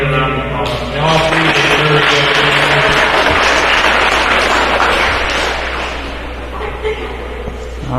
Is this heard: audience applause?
yes